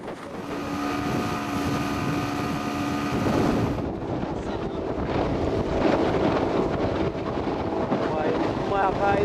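A Jungkon boat pushes slowly through big waves, with strong wind roaring against the microphone and a steady motor drone under the rushing water; a voice talks over part of it.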